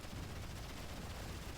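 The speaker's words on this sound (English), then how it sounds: "And more artillery bombardment over there." Artillery bombardment in the Rise of the Reds real-time strategy game, a dense, steady barrage of booming shell impacts rumbling continuously at moderate level, with no voices.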